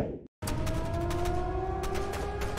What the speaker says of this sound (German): Was ist das für ein Geräusch? Sirenen?